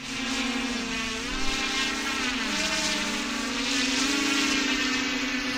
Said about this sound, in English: About to take off, eyes on drone.